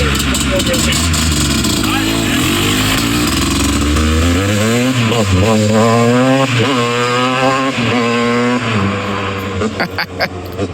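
A 450R dirt bike engine revs hard on a test ride, its loud, close, rising and falling engine note running the whole time, with someone talking over it.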